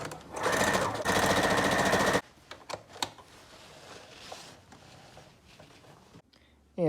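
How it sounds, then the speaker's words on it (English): A sewing machine stitches a cushion seam in a van workshop, a fast close mechanical hum lasting about two seconds, followed by quieter fabric handling and clicks. "This sewing machine has a little measuring guide on the side, and I will sew it 3/8 inch from the corner in."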